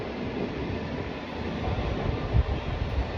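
A train bound for Richmond runs along the rails with a continuous low rumble and rolling clatter heard from onboard, a few louder knocks from the wheels near the end.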